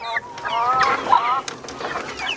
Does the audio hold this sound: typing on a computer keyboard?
no